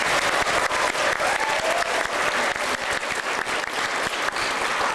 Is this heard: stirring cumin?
no